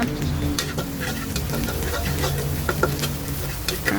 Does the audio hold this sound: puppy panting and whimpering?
no